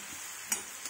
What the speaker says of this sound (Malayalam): ചതച്ച് വെച്ചിരിക്കുന്ന വെളുത്തുള്ളി, നല്ലോണം വെളിച്ചെണ്ണയിലേക്ക് ആക്കി കൊടുക്കാം